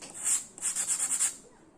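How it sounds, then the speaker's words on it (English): A foam model is sanded by hand on a flat surface, making soft close rubbing strokes: one longer stroke, then a quick run of about five rhythmic back-and-forth passes before it fades. "put it on a flat surface and sand."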